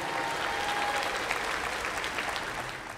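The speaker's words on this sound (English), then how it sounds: "give a round of applause for Jackson State University and all of their support and partnership" An audience at an elementary school music festival applauds with dense, steady clapping that holds for the whole stretch at moderate distance, without talk over it.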